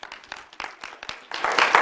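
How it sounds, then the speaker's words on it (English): A church congregation clapping hands in praise, sparse scattered claps early that swell into a dense, louder burst of applause toward the end. "Can we stand and give the Lord a hand clap of praise tonight?"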